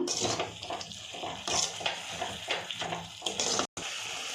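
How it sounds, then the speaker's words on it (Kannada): A tomato rice mixture with lemon juice, coriander and turmeric boiling in a pan, giving a steady close watery bubbling and sizzling with occasional light metallic clinks. "ಚೆನ್ನಾಗಿ ಕುದೀತಾ ಇದೆ"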